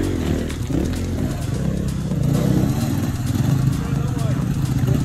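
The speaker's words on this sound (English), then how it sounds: "Those that had short little legs like Bing here would find it very difficult on this crossing" Dirt bike engine working through a creek crossing at Frying Pan Creek, a loud close motorcycle drone that rises in revs partway through, with clattering mixed in and a voice talking over it.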